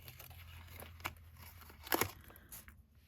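Pulling a tag off a canvas pen case, heard as soft close crinkling and a brief tearing rip near the middle, faint and quiet, with no speech.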